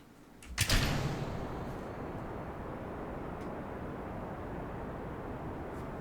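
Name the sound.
rocket launching in Kerbal Space Program video game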